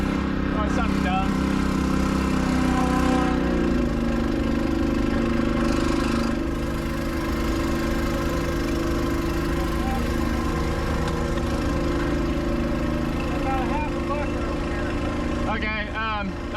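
The engine of a Case IH tractor, just switched on, runs at a steady, fairly loud idle with a constant drone. Someone talks over it now and then.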